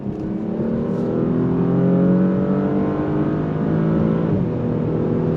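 A 2024 Porsche Panamera sedan accelerates hard out of a bend, its engine note loud and close, climbing steadily with a brief dip near the end, heard from inside with no talking.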